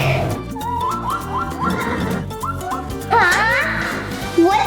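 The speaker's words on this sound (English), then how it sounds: "It's a zebra." A zebra's barking, whinny-like call repeated in a rapid series of yelping notes, loud and close, with some background noise and a possible voice mixed in.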